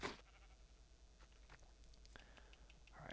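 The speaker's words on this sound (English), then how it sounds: "I can hear the sheep through the ground because they are like right here below me." Sheep in Minecraft bleat faintly from below ground, a few short muffled calls over a quiet background hiss.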